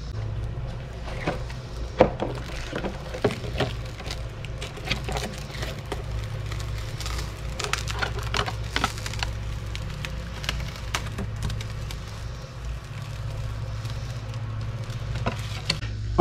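The plastic body comes off a Bezgar HM101 RC car with scattered small clicks, snaps and light plastic rustling, close and fairly quiet over a low steady background hum.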